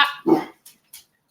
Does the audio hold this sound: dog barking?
yes